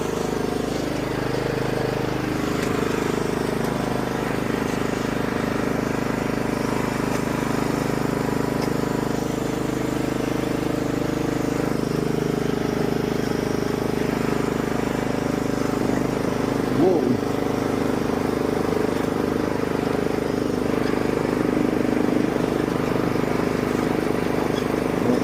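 A cheap used riding lawn mower's engine drones steadily and close while it is driven, with a continuous low, even hum and occasional faint clanks.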